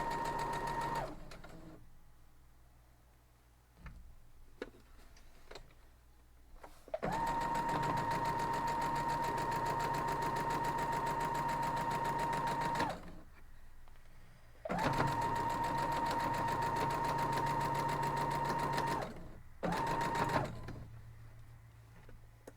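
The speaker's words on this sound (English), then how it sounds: "Switch it around, and we'll sew the other side." A sewing machine stitches a seam on a maple leaf quilt block, running in two long steady bursts with short pauses and brief stops between, close and clear with no talking.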